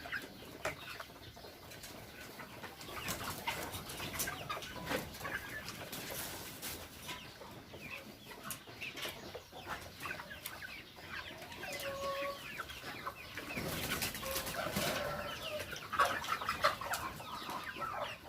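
A flock of 9-to-10-week-old laying hens clucks and murmurs continuously, soft overlapping calls with occasional louder squawks, steady throughout.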